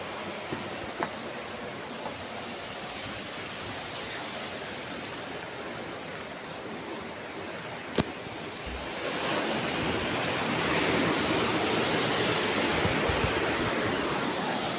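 Ocean waves wash against the shore at a seaside resort, a continuous hissing surf with gusty wind that swells louder halfway through, heard at moderate level with a single sharp click and no talking.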